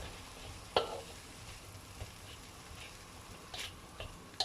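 Mushrooms, vegetables and spices are stirred in a pan for a Thai yellow curry, a quiet background sizzle broken by a few light scrapes and taps of the utensil.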